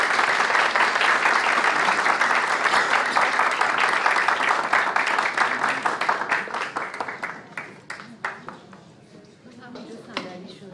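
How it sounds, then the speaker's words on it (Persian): Sustained audience applause, dense and loud for most of its length, thinning toward the end into scattered individual claps, honouring Ms. Mallah, an environmental protection figure. "خواهش میکنم به احترام ایشون تشویق ویژه‌ای بفرمایید."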